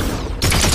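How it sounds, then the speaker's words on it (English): A brief, loud burst of rapid gunfire in Fortnite erupts mid-way, dense and close, following a rumbling lead-in. "Oh, that's a lot of gunshots over here, Jay."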